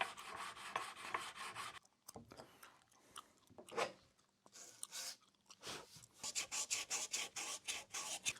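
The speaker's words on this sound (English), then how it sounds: "I'm gonna sand all of this off" Sandpaper rubbing over a homemade guitar body to strip a cured finish, rhythmic rasping strokes close by, some quick and repeated, others slower, with short pauses between passes.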